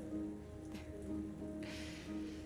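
Rain falling in the video game South of the Circle, a faint, steady patter spread evenly over a low tonal background hum, with a slightly stronger hiss of drops near the end.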